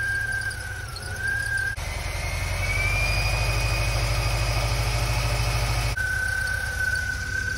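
A Volkswagen Vanagon engine idles steadily after a fuel injector and fuel line replacement, a close continuous hum with a thin whine that swells louder through the middle before settling back.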